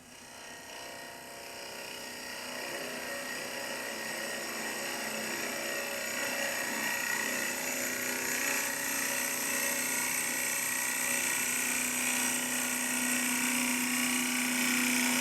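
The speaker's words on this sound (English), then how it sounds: "using the exact same 40-40 bowl gouge on this piece of ash, we're going to take one cut deep enough to go below the torn grain" Bowl gouge on a lathe taking a deep cut across a mixed-grain ash bowl blank, a steady faint rasping shear over the spinning hum, slowly growing louder, with no talking.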